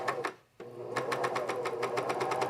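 A sewing machine stitching a Strathcona Henley runs in rapid, steady bursts close by, with a brief pause near the start before the even stitching resumes.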